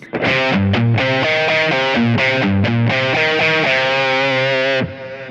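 Distorted electric guitar through a Kemper Profiler amp with tempo-synced delay plays a tribute tone, a loud melodic phrase of sustained notes and chords that rings out alone before fading.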